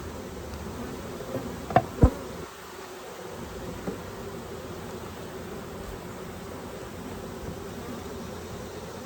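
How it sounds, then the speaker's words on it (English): Honey bees hum around an open hive in a steady, soft, continuous buzz, with a couple of brief sharp knocks early on and no talking. "a lot of these bees into the hive so that I don't crush them"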